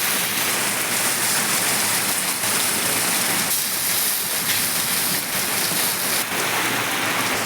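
Heavy torrential rain pours down in a rural village setting, a dense, loud, unbroken hiss of water hitting surfaces that fills the whole clip with no speech.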